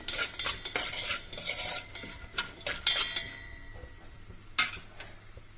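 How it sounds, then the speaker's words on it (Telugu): Cashews stirred in a pan with a metal spoon for a sweet flattened-rice pongal, sharp clinks and scrapes of utensil against the pan coming in irregular bursts, fairly close and quiet between strokes. "జీడిపప్పు త్వరగా ఫ్రై అయిపోతుంది కాబట్టి కొంచెం వేగనిద్దాం"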